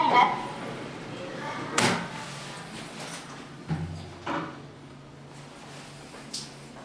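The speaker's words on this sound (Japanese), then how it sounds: "ドアが閉まります。" A Toshiba see-through elevator at a department store with its door closing: faint sliding clunks and a soft thud as the panels meet, mixed with a few quiet knocks in a hushed lift car.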